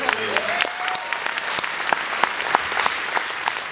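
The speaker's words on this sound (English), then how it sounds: "another round of applause." A panel audience at a Terminator 30th anniversary fan event applauds in a steady, moderately loud burst of clapping, with individual sharp claps standing out from the crowd.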